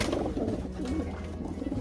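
Racing pigeon cock birds fight up close, soft cooing and rustling wingbeats sounding in a short, busy burst.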